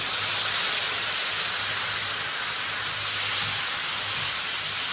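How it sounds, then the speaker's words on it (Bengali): Spice paste of cumin and turmeric with a little water added in a pan over low gas, giving a steady, fairly loud broadband sizzle and hiss that stays even throughout. "এবার মশলাটাকে অল্প করে একটু জল দিয়ে আমি কষে নেব।"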